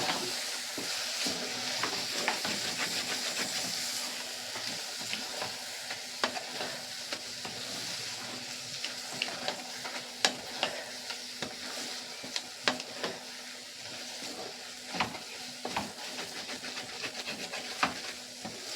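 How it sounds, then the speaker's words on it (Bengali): Onion poppy seed curry being stirred in a pan, with a low sizzle under repeated scraping and clicking strokes of a spoon against the pan, close and irregular, no talking. "ঢাকনাটা খুলে আবার একটু নেড়ে নেব"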